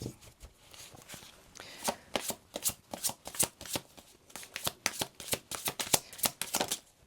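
Tarot cards being shuffled by hand in a run of crisp, repeated riffling bursts, close and fairly quiet, with short pauses between shuffles and no talking.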